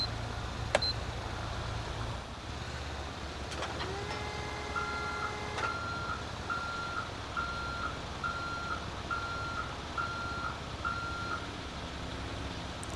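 In the GTA 5 video game, a truck in reverse gives off a steady run of evenly spaced electronic beeps over a low engine rumble, continuing for several seconds at moderate volume with no voices.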